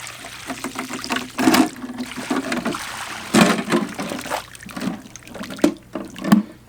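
Brown sludge water is dumped from a Magniflow 360 canister, pouring and splashing in uneven gushes and trickles for several seconds, close by, with no talk.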